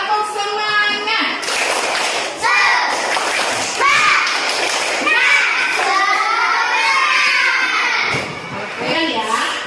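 Indonesian schoolchildren do the tepuk semangat clapping chant in a classroom: rhythmic group claps mixed with their sung and shouted chanting. The sound is loud and close, with children's voices throughout.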